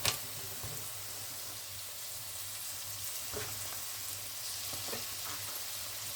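Ground meat sizzles steadily in a hot pan for spaghetti bolognese sauce, a continuous broadband frying hiss with occasional soft stirring scrapes, close and fairly quiet, with no talking.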